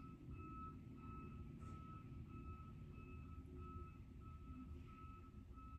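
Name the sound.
semi-truck reversing beeps while backing up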